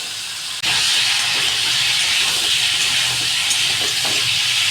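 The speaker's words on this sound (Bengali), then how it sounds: "সবজিটাকে ভালো করে লাল করে কিন্তু ভাজতে হবে" Vegetables frying in hot oil with turmeric powder in a Bengali kitchen give a loud, steady, hissing sizzle that starts abruptly just after the opening and continues without a break, with no talking.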